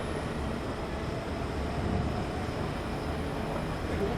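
A continuous low rumble and rattle of a moving train rolls on steadily, fairly close, with no voices over it.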